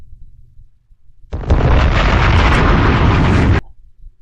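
Bomb explosion sound effect on a crypto livestream, one loud sustained roaring blast of about two seconds that cuts off abruptly, with quiet background hum before and after.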